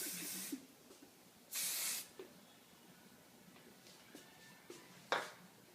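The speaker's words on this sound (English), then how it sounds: "one more good round of hairspray" Hairspray sprayed onto styled hair: two short hissing bursts, one at the start and a longer one after a pause, followed by a few faint small puffs and a final quick spritz, soft and close.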